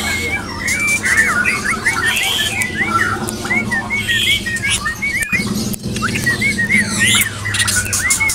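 An Oriental magpie-robin at a bird market repeats quick whistled chirps and trills up close, bright and busy, over a low background hum and scattered noise.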